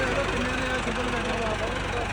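A Massey Ferguson MF364 tractor engine runs during testing, a steady low idling rumble with a faint knocking pulse and vibration, somewhat distant and unchanging over the short span.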